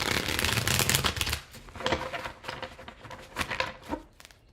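A deck of tarot cards being shuffled up close, a dense run of riffling card flutters in several bursts, fairly quiet and alone with no talking.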